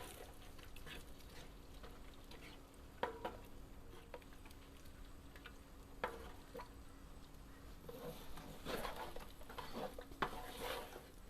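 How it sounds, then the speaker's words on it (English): Prawn fried rice with vegetables being stirred slowly in a pan, giving a faint steady sizzle broken by occasional scrapes and clicks of a utensil against the pan, with no talking. "You have to keep on stirring slowly"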